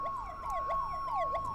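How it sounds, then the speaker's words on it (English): A video game emergency vehicle siren wails, sweeping repeatedly in quick falling cycles, steady and clear, with a faint hum beneath. "You want to turn your sirens off."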